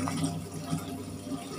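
LG single-tub washing machine filling with water, a steady rushing and trickling flow with a low hum underneath, close and continuous.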